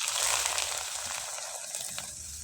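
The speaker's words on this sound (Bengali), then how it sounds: "সামান্য তেলে আপনারা পিঠাগুলো ভেজে নিতে পারেন" Ripe palm syringe pitha fry in a little oil, giving a steady, close hiss and fine crackling sizzle that holds fairly even throughout, with no talk.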